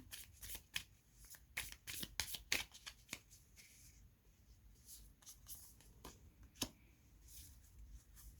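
Tarot cards are shuffled and drawn by hand: a quick series of crisp riffling snaps and soft card slides, close and fairly quiet, with no voices.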